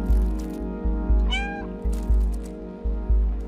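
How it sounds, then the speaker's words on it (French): A cat meows once, clear and close, in the video game Stray, rising over a steady, rhythmic low mechanical thumping that keeps pulsing in the background. "quand tu miaules, ça te montre le chemin"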